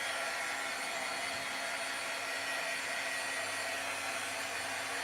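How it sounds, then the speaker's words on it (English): Heat tool blowing steadily during papercraft scrapbooking, a continuous airy whoosh like a hair dryer held fairly close, running unbroken and alone without talk. "I'm just going to pull this closer to me because my heat tool does reach over here."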